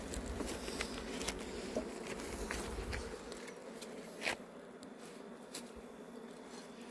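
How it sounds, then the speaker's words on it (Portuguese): Apis honey bees buzzing after being smoked during a hive capture, a faint, steady droning hum with a few soft taps and rustles nearby. "Como a gente bater uma fumacinha aqui, ó, aí as abelhas sobem lá pro canto"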